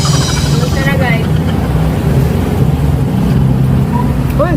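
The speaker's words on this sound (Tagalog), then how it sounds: "Mas maingay pa sa atin yung motor eh." Boat motor running close by, a loud steady engine drone with a throbbing low rumble that continues throughout, while people talk over it.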